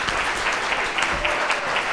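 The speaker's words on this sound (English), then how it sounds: "let's give a very, very warm applause for our guest speaker tonight" Steady applause from an indoor audience welcoming a guest speaker at an evening talk, a dense even wash of clapping throughout with no pauses.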